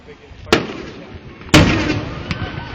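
Fourth of July fireworks in West Allis, Wisconsin, with two loud sharp booms about a second apart and a fainter pop later, each trailing into a rumbling decay over background noise.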